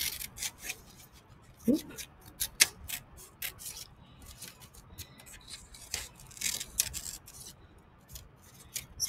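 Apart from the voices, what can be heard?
cutting a piece out for a craft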